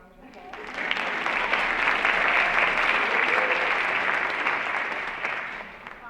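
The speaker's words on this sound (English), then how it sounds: "let's give her a round of applause." A convocation audience breaks into a round of applause for a physician assistant program director, a dense, sustained wash of many hands clapping that swells quickly and tapers near the end.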